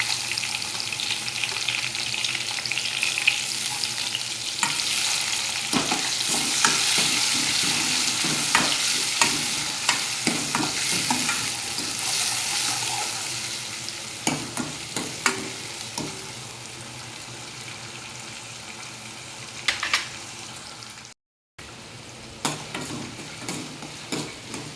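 Garlic and tomatoes fry and sizzle in a pan with a steady hiss, stirred now and then with scraping clicks, close up and alone with no talk.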